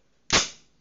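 A butane-powered gun is test fired, giving one sharp, loud pop that decays over about half a second, heard alone with no talk.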